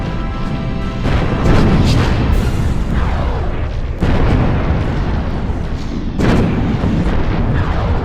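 Space battle explosions from starships in Nexus: The Jupiter Incident, a loud rolling series of booming blasts with three big hits spaced a couple of seconds apart, dense and continuous with no voices.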